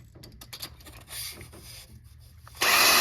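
Abrasive honing on a worn engine part from a knocking engine: short, close scraping and rubbing strokes, followed by a sudden louder, sustained grinding rasp at the end.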